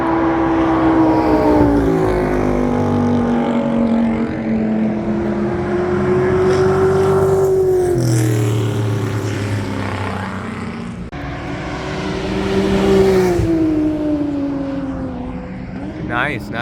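Race cars lap Blackhawk Farms Raceway in the rain, their engines droning loudly and rising and falling in pitch as they accelerate and shift, with talk running over the engine noise throughout.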